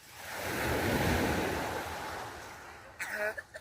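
Sea waves and surf wash steadily at a beach, a broad, loud rushing roar that swells and then slowly ebbs, with a brief burst of nearby voices near the end.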